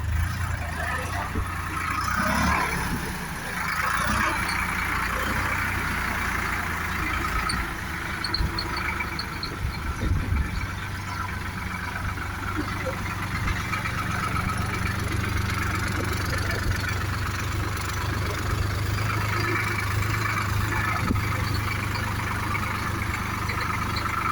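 A Solis 50 tractor engine idles outdoors at a dealership in Zhytomyr, a steady low diesel rumble that continues throughout while someone talks over it.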